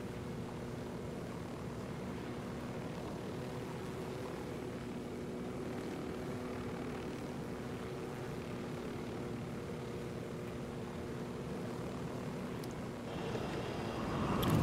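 Airplane engine in the video game Ghost Recon Wildlands, a steady low propeller drone with a tonal hum, constant and moderately quiet, swelling slightly at the very end.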